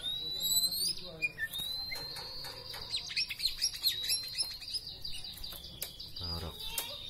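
A white-rumped shama of the Bahorok strain sings loudly and close, pouring out a continuous run of sharp whistles, trills and chirps over several seconds with brief pauses, and a low thump near the end.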